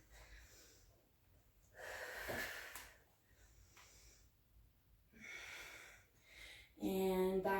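Nasal breathing during a yoga class, with several audible inhales and exhales through the nose in a slow rhythm, close and soft, ending in a brief louder vocal sound.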